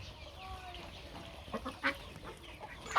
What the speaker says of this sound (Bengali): এই যে মুরগি